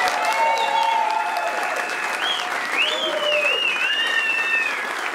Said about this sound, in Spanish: Quiero que se repita el aplauso para los que actuaron hoy día